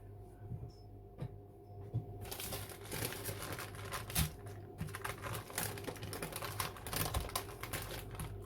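Crinkling, rustling handling as a sponge cake is gently unwrapped from a clean tea towel in a kitchen, soft and close with small taps and scrapes, no talking.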